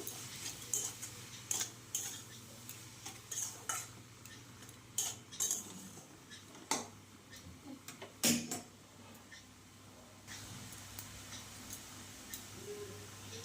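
A spoon clinks and scrapes against a pan while green peas are stirred into red spinach, with light irregular taps spread out over a quiet kitchen background.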